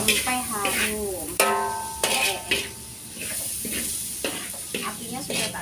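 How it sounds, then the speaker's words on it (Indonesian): Bitter melon is stir-fried in a large wok, with sizzling oil and repeated clanks and scrapes of a metal spatula against the pan, while a voice speaks over it. "Tumis sampai harum."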